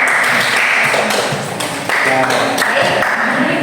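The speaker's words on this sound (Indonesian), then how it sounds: "Tepuk tangan semua." A classroom audience claps in a dense, steady burst of applause that fills the full few seconds, loud and close, while voices chatter through it.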